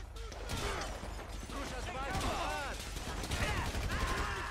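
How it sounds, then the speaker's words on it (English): Automatic weapon fire in Grand Theft Auto 5 rattles in quiet bursts beneath frequent shouting voices during a shootout. "It is an automatic weapon."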